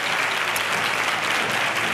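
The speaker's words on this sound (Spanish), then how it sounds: "Un fuerte aplauso para este cuerpo de baile de Soledad Rebollá que nos acompaña esta" Steady, dense applause from a theatre audience for Soledad Rebollá's dance troupe, continuous and even throughout with no voices over it.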